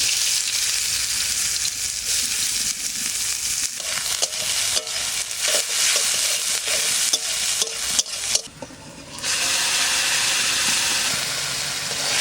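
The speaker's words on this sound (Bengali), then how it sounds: "এবার শাকটা ফোড়ন দেবো, তেল দিচ্ছি" Greens and chopped onion tempered in hot oil, a loud continuous sizzle and spatter with stirring, briefly dropping away near the end before the frying noise returns.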